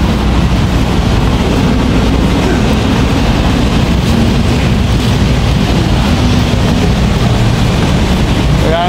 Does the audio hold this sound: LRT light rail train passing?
yes